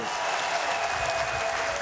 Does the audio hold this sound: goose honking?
no